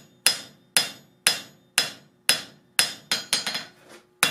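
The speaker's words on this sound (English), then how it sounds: "hit with the toe of the hammer from the center" A hammer strikes hot steel while a flux spoon is forged. Eight ringing, evenly spaced blows land close by, then a quicker flurry of lighter taps follows, each hit decaying before the next.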